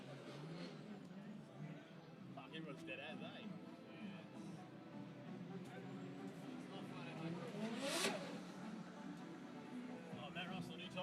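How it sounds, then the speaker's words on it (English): At a drift battle event, a car engine revs hard and bounces off the rev limiter, a buzzing stuttering roar peaking sharply near the end, heard at a distance under continuous commentary and crowd noise. "give him a bit of a rev up in there. He's giving it for you guys. Hitting that limiter."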